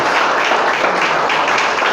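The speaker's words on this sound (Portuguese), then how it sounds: "Vamos aplaudir o Senhor" A church congregation claps together in praise during a worship service, producing a dense, steady wash of applause that stays loud and even for two seconds with no voices on top.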